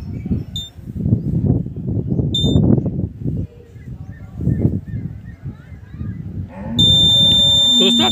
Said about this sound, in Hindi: दोस्तों आप साउंड सुन सकते हैं,